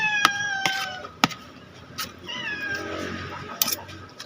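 A cat meows repeatedly, several short calls close by with brief pauses between them, no talking.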